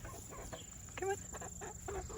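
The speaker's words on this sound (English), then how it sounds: "That's my chicken." A backyard chicken gives a few short clucks, close and moderately loud, over a steady background hum while people talk nearby.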